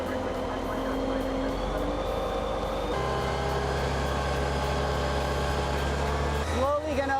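Fire engine pump throttling up to 200 PSI while feeding a water ejector, a steady mechanical drone that steps to a deeper, heavier tone partway through and holds, with a short rising whine at the end.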